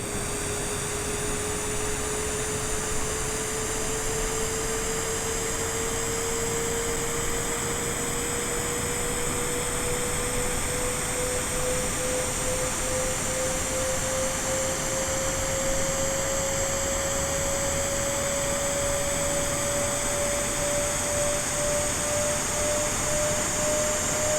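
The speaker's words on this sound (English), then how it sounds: "the APU is just about stable there" Airbus A32NX airliner APU spooling up in a flight simulator, heard from outside the aircraft as a steady loud whine rising slowly in pitch over broad jet-like rushing noise.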